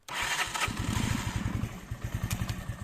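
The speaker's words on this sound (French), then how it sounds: "Je démarre ça. J'espère qu'elle va démarrer alors que j'ai le starter à fond." A small engine cranks and catches with the choke fully on, settling into a fast, pulsing, uneven idle that chugs steadily up close outdoors in a garden.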